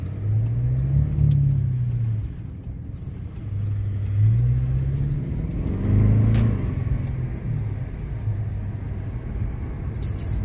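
An Audi A8 cruises along a road, its engine a low steady rumble that swells and eases in gentle waves, with tyre and road noise continuous throughout and no talking.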